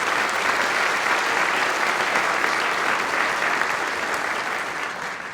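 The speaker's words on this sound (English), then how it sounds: "So let's give them a round of applause," An annual meeting audience gives a dense, sustained round of applause for board members being honored for their service, steady and loud throughout before easing slightly at the end.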